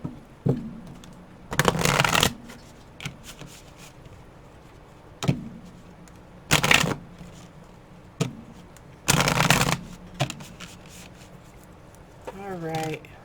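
Tarot cards being shuffled in bursts, several loud riffling shuffles of a couple of seconds each separated by quieter gaps and short taps, close up, with a brief bit of voice near the end.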